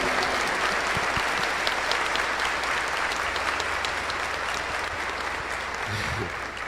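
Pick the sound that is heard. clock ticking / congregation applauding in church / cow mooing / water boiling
congregation applauding in church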